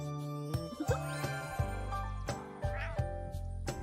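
Cartoonish cat meows from the idle game Campfire Cat Cafe mix with light chiming jingles and plucked musical notes, a rapid sequence of short bright game sounds.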